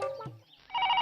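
Telephone ringing in a brief electronic trill that starts after a short pause following a clipped vocal sound, clear and moderately loud.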